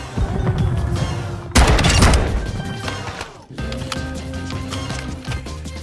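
In Call of Duty, the Jack 12 shotgun fires 12 gauge explosive slugs in rapid succession, a dense string of loud booming blasts and crashing impacts with a brief lull before more shots.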